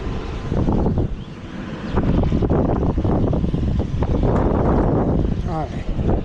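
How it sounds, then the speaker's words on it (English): Strong wind buffets the microphone at an EV charging station by a Hampton Inn where a standard range F150 is plugged in, producing loud, continuous low rumble under a voice. "Oh yeah, windy here."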